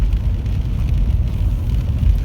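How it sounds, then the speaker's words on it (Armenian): Heavy spring rain falls in the city of Yerevan in the evening, a loud, steady wash of noise with deep traffic rumble underneath, continuous and close with no voices. "Գարնանային անձրև,"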